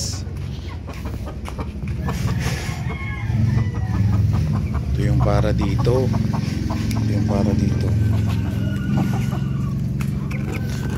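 Naked neck chickens being fed cluck and crow close by, with repeated harmonic calls rising in the middle. Someone talks over them throughout.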